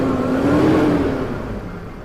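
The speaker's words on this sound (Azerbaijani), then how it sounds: "Bir dənə mühərriki işə salım qardaşım." A car engine revs up to a brief whirring peak nearby, then the engine note settles and fades back toward idle.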